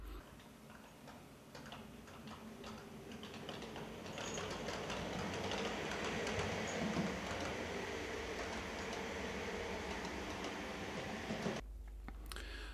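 A computer-controlled model railway train runs on a shuttle line, giving a steady rhythmic ticking and clattering of small wheels over track joints, fairly faint, ending with an abrupt stop.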